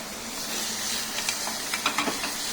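Minced garlic browns in melted butter, a close, soft steady sizzle and hiss with a few brief crackles and stirring ticks near the end.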